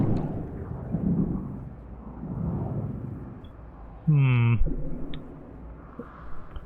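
A superheated rainstorm in the video game No Man's Sky: low rumbling rain and thunder swell and fade, broken midway by a short, loud, pitched tone, with a few clicks afterward.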